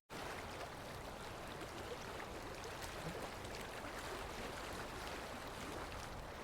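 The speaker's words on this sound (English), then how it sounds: "The sound of the river was a gentle, soothing murmur" A river murmurs gently in a soft, continuous wash of flowing water, steady and faint with no distinct splashes and no voices.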